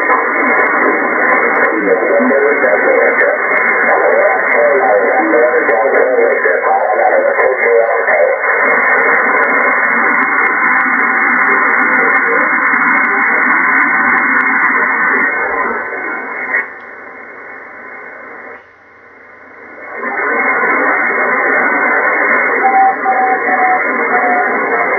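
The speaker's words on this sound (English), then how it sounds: "That is the beacon." Beacon transmission picked up on a VHF/UHF scanner, a steady band of radio signal with noisy tone running nearly continuously, dipping briefly before resuming at full strength.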